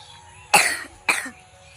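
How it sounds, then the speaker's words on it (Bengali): A young boy with a bad cough gives two harsh, close coughs about half a second apart against a quiet background. "প্রচণ্ড কাশি হচ্ছে।"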